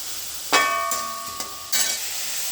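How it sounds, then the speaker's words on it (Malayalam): Chopped tomatoes with a little salt stirred in a hot pan for Kerala-style tomato chutney, a soft steady sizzle with a few sharp scrapes of the spoon, close. "നന്നായിട്ട് വഴറ്റുക."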